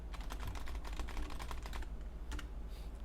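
Rapid typing on a stiff, unlubricated computer keyboard, a dense run of close key clicks for about two seconds, then a short pause and a brief final burst, with no talking.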